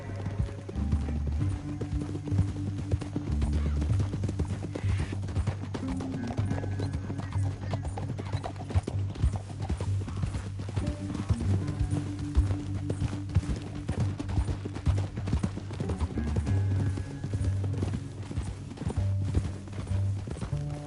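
Hooves clatter in a rapid, continuous galloping rhythm over a low rumbling bed of music and ambience, steady throughout, from the video game Red Dead Redemption 2.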